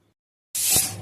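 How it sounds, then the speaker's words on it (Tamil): A pressure cooker whistle suddenly bursts into loud, high-pitched hissing steam partway through after near silence, sustained and strong to the end, while cooking jackfruit seeds. "இப்போ பாருங்கள், குக்கர் விசில் விட ஆரம்பிச்சிருச்சு."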